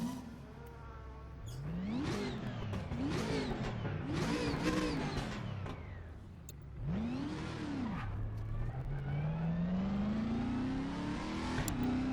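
A GT3 race car engine in the racing game RaceRoom revs hard through several gear changes, rising and falling in pitch, then settles into a steady climbing whine.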